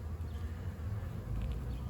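A calm honeybee swarm hums inside a heavy hive box, a steady close drone of many wings with a dense low-pitched buzz that holds without pause.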